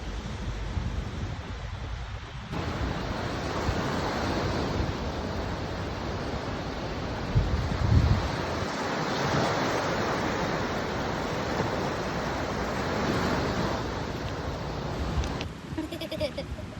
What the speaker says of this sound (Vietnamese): Biển Đà Nẵng.